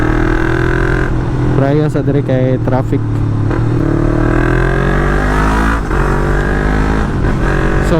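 A Yamaha MT-03 motorcycle engine revs hard up toward 7,000 RPM, a loud, close, continuous drone with repeated rising pitch sweeps as it accelerates and shifts, while someone talks over it.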